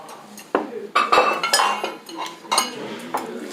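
Plates and cutlery clink and clatter close by in irregular bursts, over a low background hum.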